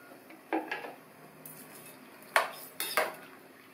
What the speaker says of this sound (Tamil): நல்லா கலந்து விட்டுறணும்.